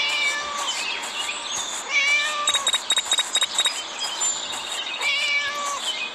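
A cat meows repeatedly in the video game Scary Teacher, drawn-out wavering cries close by, with a few short tapping sounds mixed in the middle and no talk.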